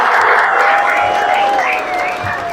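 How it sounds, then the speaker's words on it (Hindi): A crowd at an academy welcoming ceremony breaks into hearty applause, a close, loud burst of clapping lasting a few seconds with a thin tonal hum and faint voices beneath it. "एक बार जोरदार तालियां इनके लिए।"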